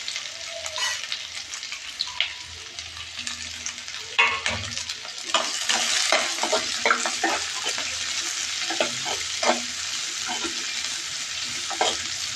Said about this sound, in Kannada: ಈರುಳ್ಳಿ ಹಾಕ್ಕೊತಾ ಇದ್ದೀನಿ